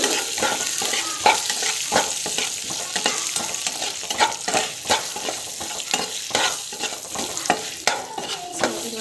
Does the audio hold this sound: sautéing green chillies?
yes